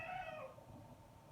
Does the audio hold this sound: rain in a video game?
no